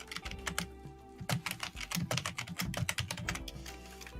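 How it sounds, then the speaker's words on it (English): Clacky typing on a computer keyboard, rapid irregular keystrokes close to the mic, with a brief pause early on before a busy burst of key presses. "Oh, that keyboard ASMR."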